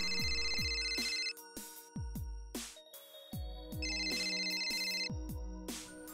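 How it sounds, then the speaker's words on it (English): A phone ringtone plays a repeating electronic melody, with tones and chimes cycling continuously, fairly clear with no talking. "Oh, I had a phone call."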